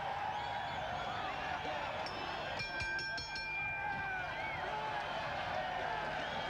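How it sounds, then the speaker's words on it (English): Constant crowd noise fills a heavyweight boxing arena, the 1991 bout at Arco Arena in Sacramento, a steady roar of cheering with a short cluster of sharp claps or bell-like tones partway through. "Crowd getting into this one"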